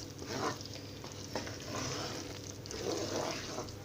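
Semolina halva roasts in a pan under steady stirring, with a soft continuous sizzle and gentle scraping strokes, close and fairly quiet, with no voices.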